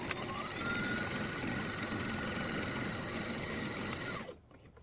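An electric sewing machine stitches apron fabric in a fast, steady whirring run with a rapid needle patter, close and fairly quiet, stopping abruptly near the end.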